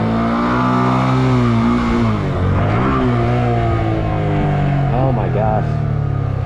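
Motorcycle engine revving and holding steady under a stunt-gearing setup, a loud continuous drone with a pitch dip partway through and rising revs near the end, a voice briefly exclaiming over it.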